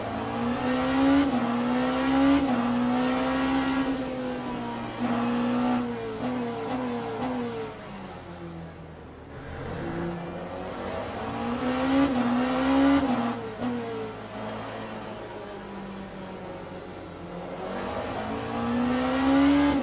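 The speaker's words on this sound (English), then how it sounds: "the wingless pug, the most beautiful car in the game" Peugeot wingless race car engine in Le Mans Ultimate, racing at Portimao: a loud, sustained high-revving drone that rises and falls through gear changes, with a brief dip before climbing again, no talk.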